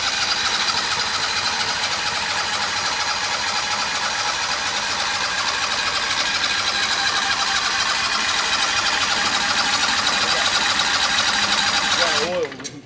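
A Turbo 670 dragster engine running on methanol for the first time gives a loud, continuous, roaring rumble for about twelve seconds, then cuts off abruptly near the end.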